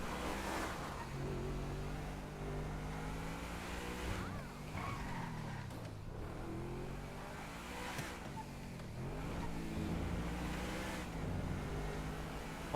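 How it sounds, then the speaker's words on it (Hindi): In the GTA 5 video game a car engine revs and accelerates, its pitch climbing and dropping through gear changes, with tire skids and a rising wind-like rush, steady and continuous without talk. "बस गाड़ी की आवाज़ सुनना।"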